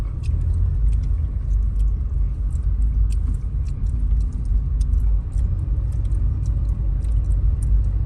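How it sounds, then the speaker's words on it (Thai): A summer storm's wind roars steadily and loudly outdoors in Maha Sarakham, Thailand, with a deep constant rumble and faint scattered rattling over the top, and no voices. "พายุเข้ามาถึงมหาสารคามเรียบร้อยแล้ว"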